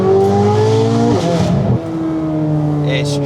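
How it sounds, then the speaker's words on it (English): A Corvette C8 Z06 with a full titanium exhaust accelerates hard from inside the car, its loud, aggressive engine note rising through the revs, dipping briefly at a shift, then climbing again. "So you still get some really good exhaust noise without all the wind noise"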